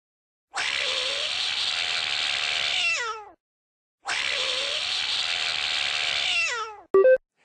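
Two long, loud cartoon cat meows in a children's matching game, each drawn out for a few seconds with a falling tail, followed by a short bright chime.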